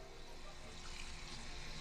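Tap water running steadily into a sink while soap is rinsed off hands, a quiet continuous splashing stream with no voices.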